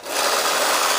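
A battery-powered Marx Big Boss toy car carrier's small electric motor whirs steadily, a continuous buzzing hum with a rattling mechanical edge, close and fairly loud throughout.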